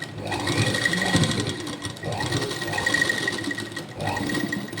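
Electric sewing machine stitching a hook belt, running in several bursts of fast mechanical whirring with short pauses between, close and clear.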